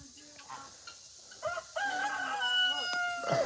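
A rooster crows loudly nearby with a drawn-out, wavering call, preceded by softer clucking and other bird sounds in the background, at an animal sanctuary.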